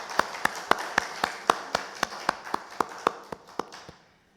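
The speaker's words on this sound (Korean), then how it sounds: "우리 박수로 축하합시다." A small church congregation claps to celebrate members' birthdays during a Sunday service, a steady run of sharp, evenly spaced claps at moderate distance that stops abruptly at the end.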